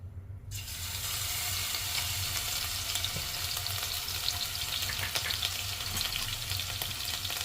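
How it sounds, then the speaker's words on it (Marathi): Crushed ginger and garlic hit hot oil for a spicy matki bhaji, setting off a sudden, loud, continuous sizzle that holds steady and close throughout, with faint crackles and no voices. "आता आपण त्याच्यामध्ये ठेचलेलं आलं आणि लसूण आहे ते टाकून घेऊया."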